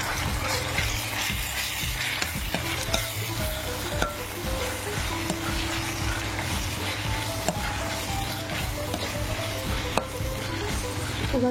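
Chilli powder and turmeric masala are stirred in a hot pan: a constant close sizzle runs throughout, broken by repeated scrapes and light clicks of the spoon against the pan, with no talking.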